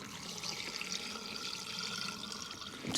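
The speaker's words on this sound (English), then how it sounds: "And we'll just put enough water in there" Water pours steadily into a camp cooking pot outdoors, a soft continuous splashing at moderate distance with a slight surge at the end.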